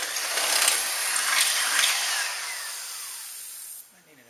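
A power drill runs steadily for almost four seconds, close and fairly loud, while holes are drilled in RV-10 aircraft wing parts, then winds down and stops.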